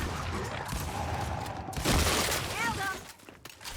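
Bursts of gunfire during bot-match gameplay in Gears 5, a loud sharp volley near the middle followed by ringing shell-like metallic pings, with background game sounds around it.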